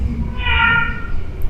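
A single close, drawn-out cat meow over low background rumble.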